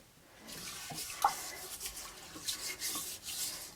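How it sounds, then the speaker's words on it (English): A toilet brush scrubbing a toilet bowl filled with white vinegar, producing soft, wet swishing and rubbing strokes close by at a moderate, uneven pace, with no talking. "add a couple cups of white vinegar to the bowl, and then you use your toilet brush"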